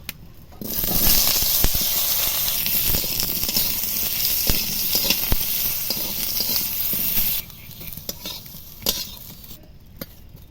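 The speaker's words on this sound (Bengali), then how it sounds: "দিয়ে এবার আলুগুলো ভেজে নেবো" Cut potatoes fry in hot mustard oil in a kadai, a loud, dense sizzle that bursts in abruptly and holds steady before dropping to a quieter crackle near the end, with occasional scraping clicks.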